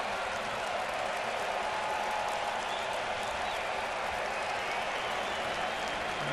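A baseball stadium crowd applauds during a Yankees versus Blue Jays MLB game, a steady, dense wash of clapping and crowd noise that holds evenly for the whole stretch without a break.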